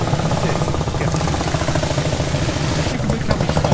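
A 780cc Sunbeam motorcycle engine idles close by at Brooklands, steady and rattly with rapid low firing pulses that stay even throughout.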